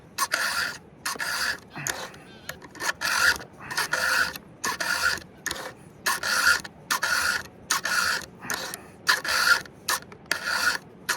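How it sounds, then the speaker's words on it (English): A round file sharpens chainsaw chain teeth in rhythmic push-and-pull rasping strokes, about a dozen bursts with brief gaps between them, close and clear with no talking. "So I like to use the full length of the file, and as you can tell, I push and pull at the same time."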